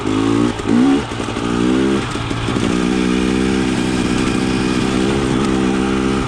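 A KTM 300 XC TPI two-stroke dirt bike with a low-compression head insert rides in third gear, its engine droning loud and close with throttle surges and steady pulling.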